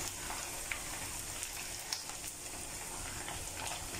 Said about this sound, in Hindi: मीडियम टू लो मैं अपनी फ्लेम कर देती हूँ, ठीक है, ताकि स्लोली और अच्छे से कुक हो हमारी चिकन।